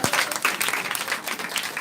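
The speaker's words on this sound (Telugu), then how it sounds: "మనం ఎంతో దండిలో చప్పట్లు కొడుచు దేవుని నామాన్ని మహిమపరచాం" A congregation claps rhythmically during a Christmas celebration in church, with a sustained wave of applause. Individual claps pulse through it in a quick, even beat.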